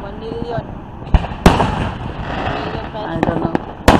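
A hometown fireworks display booms with several sharp, loud bursts spaced irregularly over constant crowd murmur and background voices.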